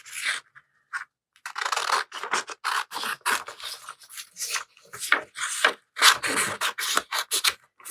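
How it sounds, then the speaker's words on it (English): Scissors snip through paper printed with vintage roses while pieces are cut out, giving close, crisp, uneven cuts and rustling, with a few short pauses between bursts. "I'm just going to cut all of them out."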